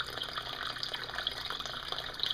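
Pumped water pours into a home aquaponics tank set up indoors, a steady close hiss of splashing and trickling liquid with no voices.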